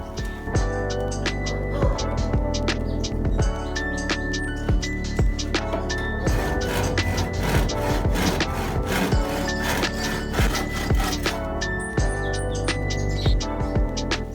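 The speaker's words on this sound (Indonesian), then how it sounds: "Kayunya gue ukur dan gue potong sesuai kebutuhan" Wooden beams 3 x 3 cm are cut by hand saw in steady back-and-forth strokes, a rhythmic rasping that fills the whole stretch, close and loud with no talking.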